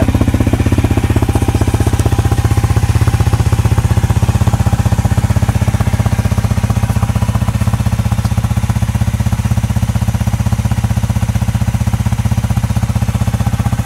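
A Honda CRF250L motorcycle fitted with a 305 big bore kit idles just after a cold start, giving a loud, steady, close engine drone that holds unchanged with no voices.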